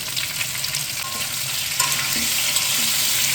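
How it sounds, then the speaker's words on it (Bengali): Cumin seeds and three bay leaves sizzle in hot oil for tempering a taro and fish curry, a bright, steady frying hiss close by with light stirring scrapes and no talking. "এখন আমি ফোড়নে দিয়ে দিচ্ছি জিরে, আর দিয়ে দিচ্ছি 3টে তেজপাতা।"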